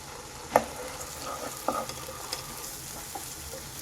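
Onion with ginger garlic paste fries quietly in a pan, a soft even sizzle broken by a few light spatula taps and scrapes.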